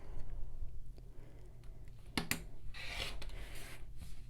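Quilt fabric triangle being cut open with a rotary cutter or scissors along a ruler, a quiet, close sequence of rubbing and slicing scrapes with a couple of sharp clicks, no talking.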